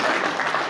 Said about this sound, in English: I thought that was going to be one round of applause from the back